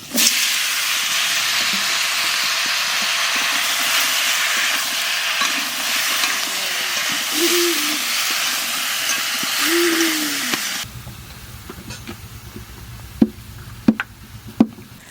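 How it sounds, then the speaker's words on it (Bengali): Green banana pieces are tipped into hot oil in a pan with potatoes that were fried first, giving a steady, loud hiss of frying for about ten seconds. The sizzle then stops abruptly, leaving a few sharp clinks and knocks. "আলুটা একটু ভেজে নিয়েছি এবার কলাটা দিয়ে দেবো"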